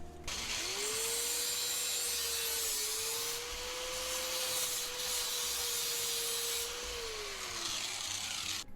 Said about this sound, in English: Get the angle grinder out again.